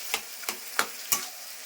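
Pre-boiled taro frying dry in a pan without added water, stirred with four evenly spaced, crisp scraping strokes of a spatula, close up, over a faint steady sizzle, with no voices.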